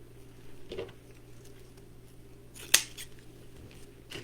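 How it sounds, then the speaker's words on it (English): Scissors trimming a ribbon bow on a Christmas truck wreath made with ruffles, one sharp close snip standing out against a quiet room hum, with a faint rustle just before it. "since this is a little long, I'm just going to do a tiny bit of trimming."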